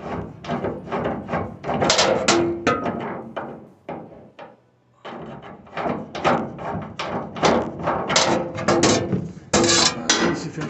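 Metal clunks, scrapes and thuds repeat irregularly as a screwdriver works a drum roller loose inside a Speed Queen commercial dryer, with a brief quiet pause midway.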